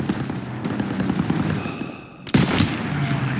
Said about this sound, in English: Daniels, hit that MG.